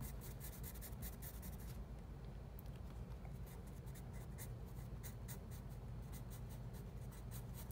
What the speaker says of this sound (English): I'm using like a real dark, I think this is a charcoal pencil actually